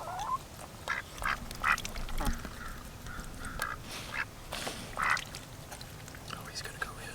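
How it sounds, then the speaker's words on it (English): A pet duck named Ebenezer quacks several times, close by, its short nasal calls mixed with soft talking and faint handling noises. "He's a happy duck."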